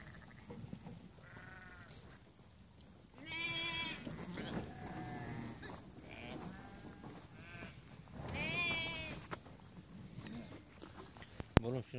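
Several Merino sheep bleat in wavering cries, some near and loud, others fainter, over a low background rumble and occasional human voices.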